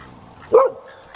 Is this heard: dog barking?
yes